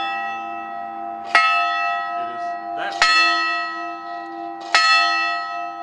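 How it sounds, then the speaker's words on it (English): A chapel bell at the Little Church of the West rings three loud, clear strikes spaced about two seconds apart, each tone ringing on and overlapping the last. "They ring a bell in the movie."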